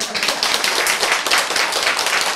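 A single person claps hands in a quick steady run of sharp, close slaps lasting a couple of seconds, without talking.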